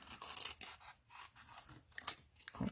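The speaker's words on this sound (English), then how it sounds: "We'll get our little snips now. And cut them down." Small snips cut through paper for stamped flower crafts in a quick series of close, crisp snipping and scraping strokes, quiet and irregular, with no talking.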